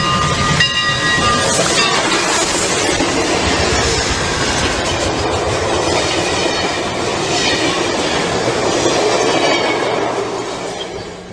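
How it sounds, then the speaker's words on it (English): In Garry's Mod, Santa Fe Northern steam locomotive 3751 hauls a small employee excursion train, a loud, close, continuous rumble of rolling wheels and rail clatter with hissing steam and faint whistle tones early on. "we follow Santa Fe Northern number 3751 as she pulls a small employee excursion train over the line"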